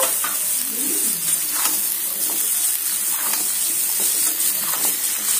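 Cut pumpkin and potatoes fry together in a pan, a steady, bright hiss of sizzling oil running throughout, with soft stirring scrapes and small clinks of the spatula, close by and with no voices.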